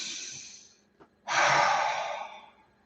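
A single person breathes deeply during a meditation: a soft exhale trails off, then after a short pause comes a long, full, close breath that fades gradually.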